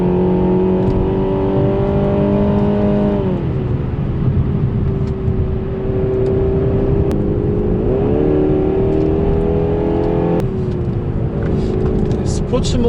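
A Renault Samsung SM6 (Renault Talisman) pulls hard in sport mode up a mountain road, its engine note rising steadily with a dip and climb at each gear change, steady tire and wind roar throughout, close and loud.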